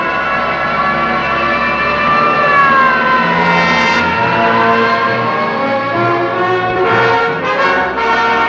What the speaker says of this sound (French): là où la musique de Miklos Rosa se mêle aux sirènes de la ville